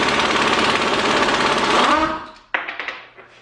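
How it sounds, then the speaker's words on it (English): An air impact gun hammers at a nut on a KTM 525 engine, a loud rapid rattling burst for about two seconds, then a few short clanks and taps. "So it just didn't have the jam to pull that nut off. Yesterday, I got Justin to bring home his gun from work"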